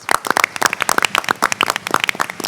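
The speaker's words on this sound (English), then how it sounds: "Give them a round of applause, please." Audience clapping for staff members at a presentations and resolutions meeting, a dense, steady burst of many hands close by with no voices over it.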